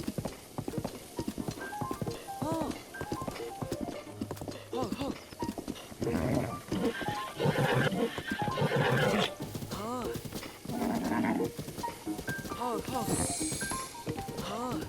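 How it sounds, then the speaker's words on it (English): Horse neighing and hoof clip-clops in The Legend of Zelda: Breath of the Wild, with repeated whinnies and steady hoofbeats over game music, and a voice talking at times. "We're slowly calming the horse."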